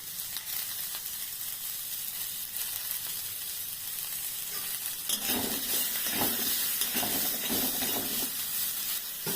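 Onions sizzle and crackle in a hot pan with salt added, a steady frying hiss that grows busier midway with stirring scrapes.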